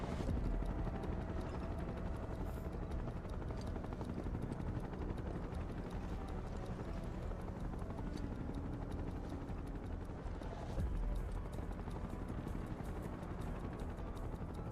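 Helicopters in the video game Final Fantasy VII Rebirth give off a continuous, faint, rumbling rotor wash that holds steady throughout, with no speech over it.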